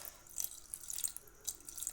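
A little water is poured into radish chutney, giving faint splashing and trickling bursts with a few drips, close by and quiet, with no talking.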